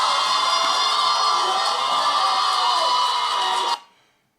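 A studio audience on a dating show cheers and whoops loudly with excited shouts, a bright, sustained roar that cuts off abruptly near the end.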